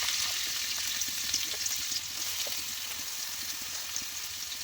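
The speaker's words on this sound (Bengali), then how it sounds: "এবার আমি সবজিগুলোকে লাল লাল করে ভেজে নেব।" Chopped carrot, onion, green chilli and cabbage sizzle steadily in hot oil for pasta, a dense, even frying hiss with no voices.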